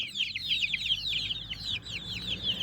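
A flock of small chicks peeps and cheeps continuously, a busy overlapping chorus of high, thin calls with no talking.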